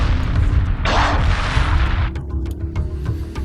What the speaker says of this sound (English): The Vega carrier has been destroyed.